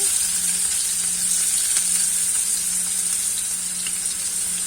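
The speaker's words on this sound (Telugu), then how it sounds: "ఇప్పుడైతే ఆయిల్ హీట్ ఎక్కిపోయింది కదండి. ఆనియన్స్ అయితే వేసుకుంటున్నాను." Onions dropped into hot oil crackle and sizzle steadily in a home kitchen, a dense, close frying hiss running throughout with no talk.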